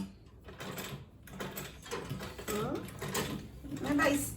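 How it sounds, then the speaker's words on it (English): A sewing machine stitches an Ankara fabric bag nearby in short mechanical bursts, with a person talking over the whirring throughout. "Just sewing there, and now raise it up."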